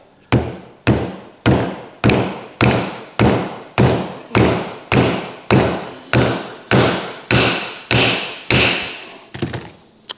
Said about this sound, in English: Now let's see if we can't get this wedge in there. And I'm going to use this hammer right here.